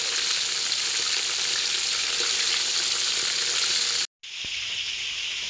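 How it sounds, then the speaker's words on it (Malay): Chicken pieces fry in hot oil for ayam geprek, giving a loud, steady, close sizzle that briefly cuts out near the end and then resumes slightly quieter; no one talks. "Saya tengah goreng ayam untuk nak buat"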